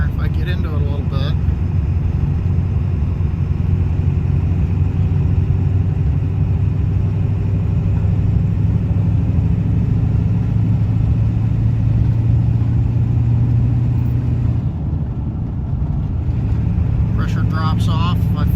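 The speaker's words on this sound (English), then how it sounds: "So I'm just driving along here. If I get into it a little bit," An OBS 7.3 Powerstroke diesel truck engine while driving and accelerating, a steady loud cabin rumble that swells under throttle and eases off near the end.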